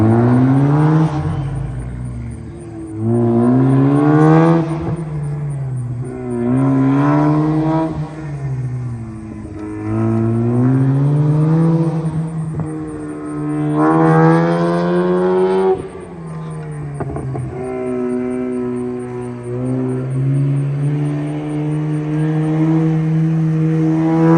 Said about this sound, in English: Now I'm going to actually try to start playing around with the throttle, start playing around with the gas,